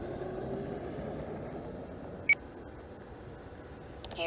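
A small RC model jet takes off with a steady, rushing turbine whine and a thin high tone holding throughout, broken by one short electronic beep midway and a rising swell at the end.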